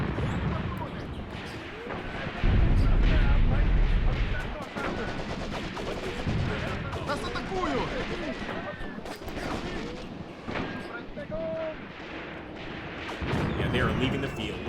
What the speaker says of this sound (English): Look at our guy firing at him with a PPSH here.